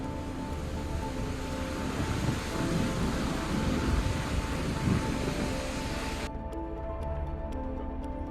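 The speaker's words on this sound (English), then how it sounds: "a rare piece of footage that captured the immense power of the ocean" Powerful storm surf pounding the Outer Banks shore near Highway 12, a dense, continuous roar of crashing waves and wind that holds steady before the upper hiss suddenly drops away near the end.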